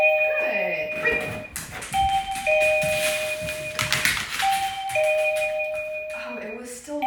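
Indoor electronic doorbell rings over and over in a steady repeating chime pattern, close and prominent, while a person talks and praises a dog over it.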